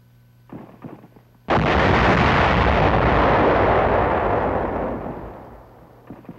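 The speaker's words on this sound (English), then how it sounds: "Resulting explosions close all but the biggest caves" A massive TNT demolition explosion closing caves erupts suddenly after faint rumbling, a loud sustained roar of blast and debris that slowly fades over several seconds, in 1945 wartime combat.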